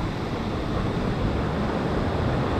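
Steady broadband roar of ocean waves surging in, loud and continuous throughout, with no distinct breaks or other sounds on top.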